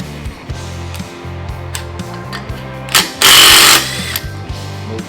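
A Snap-on impact driver fires one loud, dense burst of hammering near the end, after a stretch of lighter rhythmic mechanical clatter, heard close up in a tool test against Milwaukee and Mac drivers.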